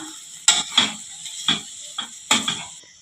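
A spoon knocks and scrapes in a pan while mashed potato is stirred into an Indian masala for a snack, giving five or six sharp, separate taps spaced irregularly over a quiet background.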